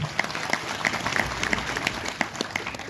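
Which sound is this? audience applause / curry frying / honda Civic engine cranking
audience applause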